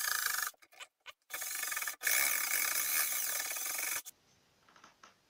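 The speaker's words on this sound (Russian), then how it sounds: "И сейчас я это лобзиком аккуратно вырежу." A jigsaw cutting wooden door trim, bursts of close, loud rasping saw noise broken by short pauses, then a long steady cut that stops abruptly into quiet handling sounds.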